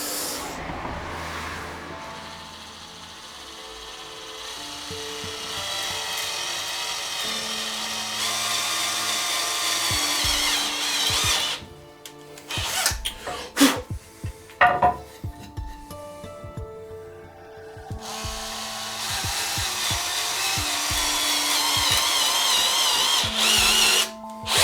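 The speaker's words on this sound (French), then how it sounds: "je vais percer un tout petit peu pour que ça corresponde maintenant au trou-trou" A drill bores a small hole into a wooden perch for a bird of prey, its motor whining in several loud close bursts with short pauses and stuttering stops between runs.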